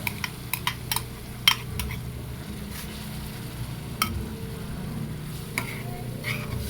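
Bagoong shrimp paste sautéed with tomato, onion, garlic and chili in a pan, a steady close sizzle with scattered sharp clinks of a utensil against the pan.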